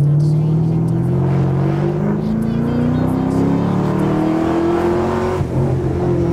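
A Chevrolet Camaro convertible accelerates, its engine note climbing steadily in pitch, loud and close throughout.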